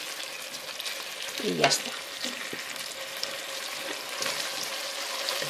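Sauce already fried sizzling steadily in a pan while it is stirred for a stew of meat with seasonal vegetables, a continuous close hiss with brief scraping around the stir and a few quiet words spoken.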